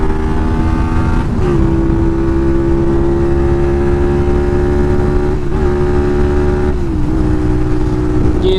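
A Honda VTR 250 motorcycle cruises down a long straight country road, its engine droning loud and steady close to the rider, with brief pitch dips at gear changes and wind noise throughout.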